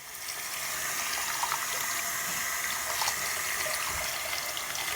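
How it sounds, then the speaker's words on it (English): Water poured onto a tropical pitcher plant (Nepenthes), a steady close trickle and splash of running water that holds level for several seconds with no talking. "I'll just quickly show you how I water these guys"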